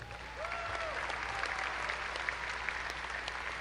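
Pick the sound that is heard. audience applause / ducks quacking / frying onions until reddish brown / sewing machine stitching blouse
audience applause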